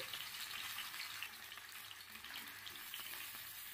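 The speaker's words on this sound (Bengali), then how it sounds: "এরপর আলুগুলো তেলের মধ্যে ছেড়ে দেওয়ার পর সামান্য পরিমাণ হলুদ গুঁড়ো দিলাম" Potatoes fry in mustard oil in a kadai with a little turmeric, a steady, soft hissing sizzle with faint stirring and no talk.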